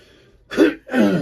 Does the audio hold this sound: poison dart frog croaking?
no